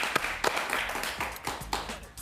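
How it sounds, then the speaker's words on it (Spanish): Scattered audience applause for Leopoldo López, a handful of distinct claps over a soft room murmur, fairly quiet and brief. "Un aplauso para Leopoldo López, por favor."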